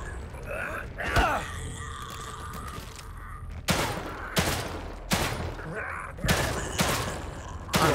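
Gunfire in the survival horror game The Evil Within 2: after a quieter stretch of clanking game ambience, about six loud, sharp shots ring out close by at irregular intervals, each one a hard broadband crack.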